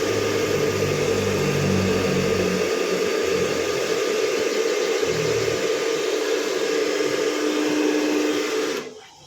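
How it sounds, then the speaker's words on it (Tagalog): A blower or heat gun drying freshly mixed gray and cream paint gives a steady, loud whirring roar with a constant hum, running without pause for about nine seconds before cutting off at the end. "Blower din natin para madali matuyo."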